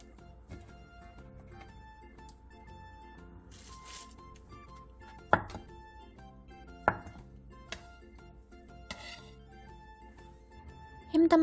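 A knife slices imitation crab sticks lengthwise and into short lengths on a cutting board, giving a few sharp, separate knocks over quiet kitchen background, with soft voiced narration.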